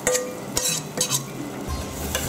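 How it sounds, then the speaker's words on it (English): Finely chopped shallots going into homemade garlic butter in a pan: a steady soft sizzle under scraping and stirring, with a few light utensil clinks against the pan, close by and without speech. "To this, I'm going to add some finely chopped shallots."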